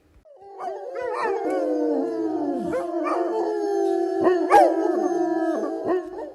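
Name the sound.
dogs howling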